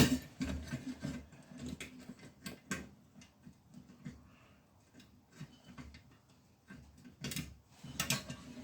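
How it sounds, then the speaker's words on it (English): Bolt being turned by hand and threaded into a heated element for a DIY powder-coating oven, irregular metallic ticks, clicks and scrapes close by in short bursts. "we're going to start turning the bolt and thread it into the thread on the heated element."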